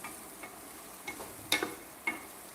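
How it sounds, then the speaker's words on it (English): Salted vegetables stirred in a pan, a few soft scraping strokes and light clinks over a faint sizzle, close and quiet. "Stir it around"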